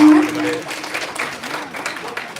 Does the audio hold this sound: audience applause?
yes